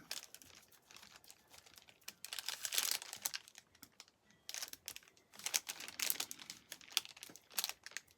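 Cellophane is handled at a desk while making journal cards, giving faint, close crinkling and crackling in irregular bursts with short quiet gaps between them.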